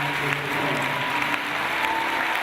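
A church congregation at an evangelical worship service claps steadily and densely, a loud sustained wash of applause with no break and no clear voices on top.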